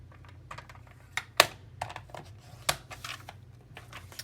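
Scissors cutting across the top of a paper planner guide page, a series of close, crisp snips and paper rustles with a couple of sharper clicks, quiet and without talk.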